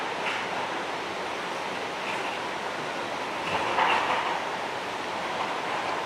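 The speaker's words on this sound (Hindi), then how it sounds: "माँ चामुंडा देवी मंदिर से दर्शन कर रहे हैं आप पवित्र बाणगंगा के" Water of the sacred Banganga river rushing past the Chamunda Devi temple, a steady broadband roar of flowing water that holds constant throughout with a slight surge near the middle, no voices.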